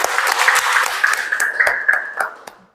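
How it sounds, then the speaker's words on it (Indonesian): Brief applause from a classroom of students, a dense burst of clapping that fades out over a couple of seconds, with a sustained tone or voice running through it. "Tepuk tangan dulu untuk kita semua"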